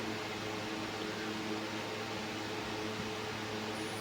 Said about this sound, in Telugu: ఇలా మిక్సీ పట్టుకొని